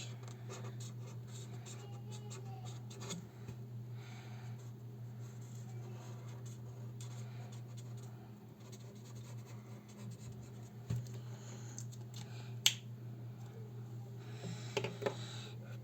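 Colored pencils shading a drawing on paper, steady quiet scratchy strokes over a constant low hum, with a few sharper ticks near the end.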